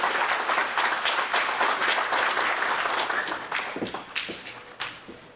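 Audience applause for a pageant contestant, a dense round of clapping that thins out toward the end into a few scattered, sharper individual claps.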